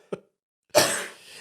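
A person coughs in two bursts, a short faint one followed after a pause by a longer, loud, harsh cough that trails off; a man with a lingering cough, heard close up.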